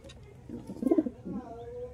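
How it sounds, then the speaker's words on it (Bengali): Madras pigeons kept at home cooing in soft, low, throaty bursts up close, one rolling coo in the middle followed by a shorter one over faint background sounds. "এই দেখো পায়রাগুলো ভালোভাবে দেখো"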